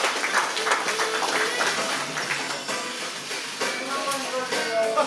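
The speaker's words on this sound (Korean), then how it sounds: "박수 부탁드리겠습니다." Audience applause and cheering at an MBC drama press conference photo session, continuous clapping mixed with voices and tonal background sound.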